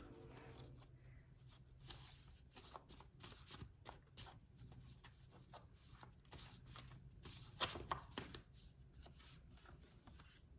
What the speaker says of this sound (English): I am going to shuffle on screen. And I'll be starting with my little handmade deck.